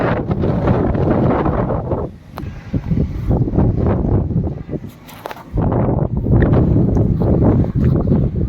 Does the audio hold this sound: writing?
no